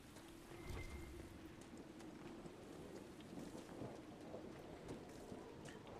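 Thunderstorm in the video game Dragon Age: Inquisition: steady rain hiss with a deep rolling rumble of thunder building early and continuing throughout, no voices.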